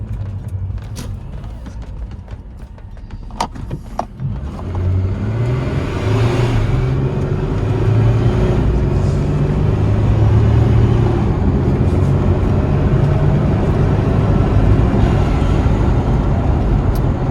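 A supercharged second-generation Toyota Tacoma pulling away from a stop at about half throttle, its engine droning and climbing in pitch through gear changes, steady and fairly loud from inside.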